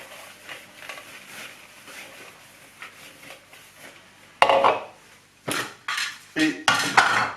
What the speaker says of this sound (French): Je vais huiler légèrement un saladier.